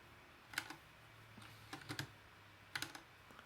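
Keystrokes on a computer keyboard while a Kubernetes scaler is coded, sounding as a few short bursts of clicks separated by quiet gaps, close and fairly soft.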